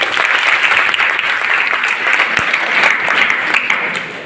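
College students clap loudly and continuously, a dense, sustained burst of applause from a large group in a hall, with no talk over it.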